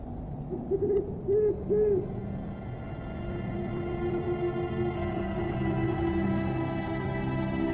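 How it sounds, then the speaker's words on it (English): A snowy owl on the tundra gives a short series of low, hollow hoots, three in quick succession and fairly clear, before a steady low droning background takes over. "The snowy owl, Buboscandiacus, is the ruler of the tundra skies"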